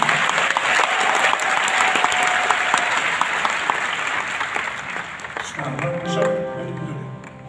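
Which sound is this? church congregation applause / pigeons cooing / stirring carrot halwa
church congregation applause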